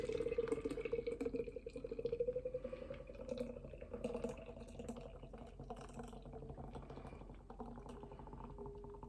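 Dundalk Bay Brewmaster Nitro Stout poured straight upside down from a can into a glass, a close, steady gurgling, bubbling flow that lasts several seconds with no talk over it.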